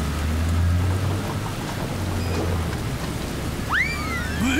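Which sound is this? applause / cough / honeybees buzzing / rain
rain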